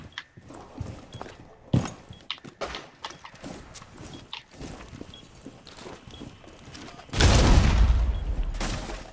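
Bursts of gunfire in Rainbow Six Siege, several sharp shots scattered among footsteps and mechanical clatter, ending in a loud sustained burst that carries on to the close.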